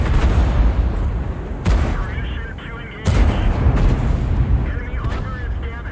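Tank cannon shots in a tank video game, with two heavy booming blasts a little over a second apart, each followed by rumbling decay, loud and near under a voice talking.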